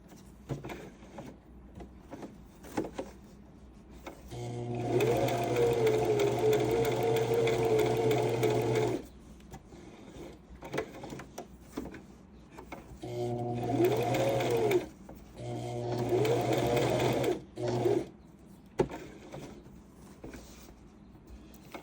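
A sewing machine stitches in several bursts, each a steady mechanical whir lasting a few seconds and separated by short quiet pauses with small clicks and handling sounds.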